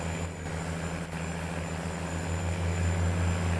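A large 700-horsepower tracked tractor in Farming Simulator 19 runs at high throttle, giving a loud, steady mechanical drone with a strong low hum, close and alone with no talk.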